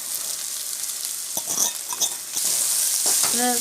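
Green beans and carrots sautéing in a pan with onions for homemade pasta, a steady sizzle with a few spatula scrapes and stirs, close up and without voices.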